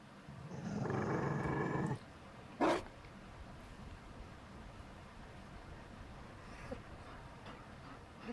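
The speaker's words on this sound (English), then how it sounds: "You found a dog?" A Mabari war hound in the video game Dragon Age: Inquisition gives a low, rough growl of under two seconds, then a short snarl, followed by quiet game ambience.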